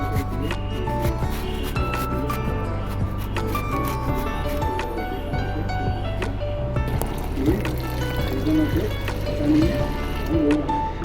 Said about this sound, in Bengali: এবারে আমি ওটাকে গ্রেটারের সাহায্যে সুন্দর করে গ্রেট করে নিচ্ছি